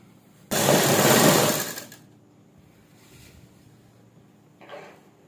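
A sewing machine stitches a simple suit (kurti) seam in a loud, steady mechanical whir lasting about a second and a half, followed by quieter handling noises and a brief soft rustle near the end.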